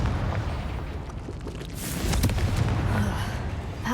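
A Confringo fire spell exploding on spider egg sacs in the game Hogwarts Legacy: a rumbling burst that swells midway and sustains as a crackling roar, with softer pops trailing off.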